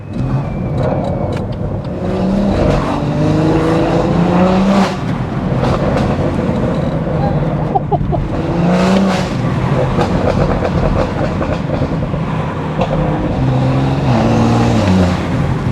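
A stage 2+ tuned BMW M140i drives with its engine revving up and down through gear changes, a close, loud cabin drone with rising and falling pitch sweeps.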